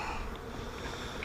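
A soft, steady buzzing of many honey bees at a hive during an inspection, a low continuous hum with no voices.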